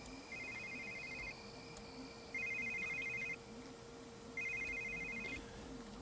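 A telephone rings inside The Sims 3 game, sounding as three evenly spaced electronic trill bursts at a steady moderate level over a low background hum.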